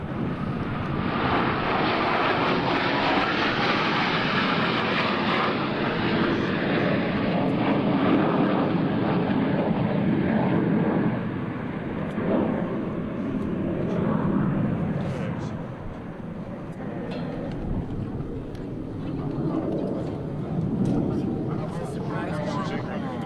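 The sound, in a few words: US Navy Blue Angels jets flying a double varvel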